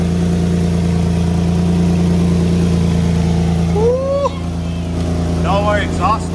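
A single-turbo Infiniti G37 engine idles loudly and steadily at first startup with a deep, constant drone, while a person speaks briefly near the end.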